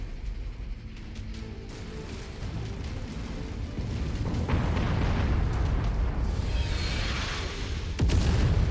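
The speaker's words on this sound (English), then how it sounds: "we seem to be getting bombarded by artillery constantly" Artillery bombardment in the MechWarrior 5 video game, a rumbling barrage of heavy booms and blasts that swells louder toward the end, with no talk over it.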